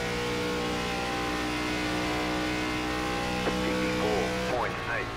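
An ARCA race car engine in the iRacing game on the Indianapolis Motor Speedway holds a steady loud drone, then revs up and down near the end as the throttle comes on too early.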